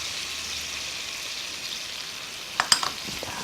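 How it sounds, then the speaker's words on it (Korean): Squid stir-frying in a pan with garlic, sugar, syrup and soju, a steady close sizzle with a few sharp clinks of a utensil near the end. "그래서 잘 어울려지도록 이렇게 볶아주세요"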